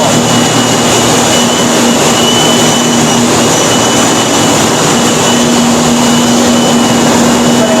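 A tea factory grinding machine pulverises tea leaves and stems into powder, giving a loud, steady broadband roar with a constant low mechanical hum and no breaks throughout.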